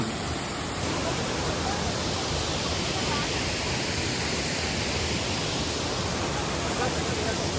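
Enchanted Tiger Falls in Prosperidad, Philippines: a loud, steady broadband roar of falling water that fills the scene close up without letup.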